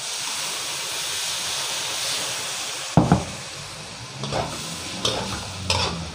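Pork belly with curry paste sizzles in a pan under a steady hiss, then water goes in and a spatula scrapes and stirs the meat in several loud, close strokes.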